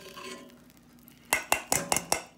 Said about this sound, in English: excuse me, guys, for all the noise. But I got a handle on this spoon